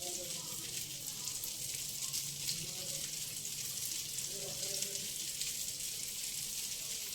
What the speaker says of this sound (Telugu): చక్కగా ఆయిల్లో వేయించుకోండి.